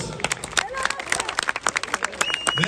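Audience applause at a live hairdressing show in Malatya honoring a world show champion hairstylist: scattered hand claps and crowd noise, fairly loud and continuous, mixed with speech babble.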